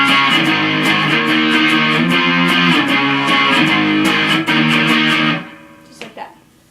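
Distorted electric guitar chugging power chords, loud and driving with a steady strummed rhythm that cuts off near the end, leaving a couple of faint string noises.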